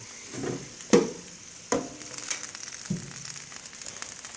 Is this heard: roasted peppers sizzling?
yes